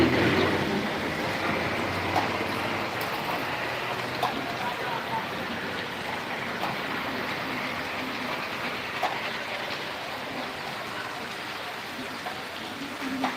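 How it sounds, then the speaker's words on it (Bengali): Heavy rain pours down in a steady, dense hiss that stays loud and close from start to finish, with no break in the downpour. "বৃষ্টি তো কমার নামই না"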